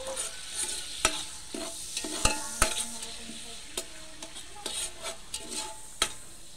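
Garlic and onion sautéing in a pan while being prepared for sopas, spaghetti and carbonara: a steady broad sizzle with frequent sharp scrapes and clinks of a utensil stirring against the pan, close and clear, no talking.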